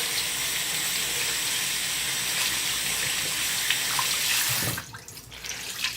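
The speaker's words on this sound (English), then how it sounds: "run some water" Tap water runs steadily into a sink to wet a washcloth, a close, even hiss of flowing water that breaks up near the end into splashes as the cloth goes under the stream.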